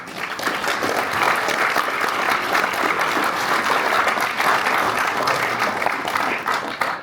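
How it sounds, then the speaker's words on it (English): A large audience at a Burns Supper near Brig O'Doon, Alloway, breaks into sustained, dense applause, loud and even throughout with no voices over it. "Give yourself a huge round of applause"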